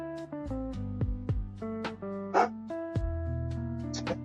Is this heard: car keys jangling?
no